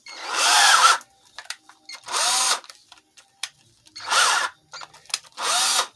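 A handheld power drill with a bit spins up in four separate bursts of roughly a second each, with short quiet gaps and light handling clatter between them.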